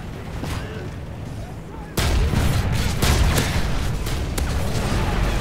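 Gunfire from the Call of Duty Modern Warfare 3 video game, bursts of shots that jump suddenly louder partway through and continue as dense, rapid cracks and booms.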